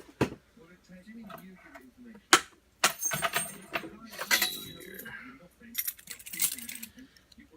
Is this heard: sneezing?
no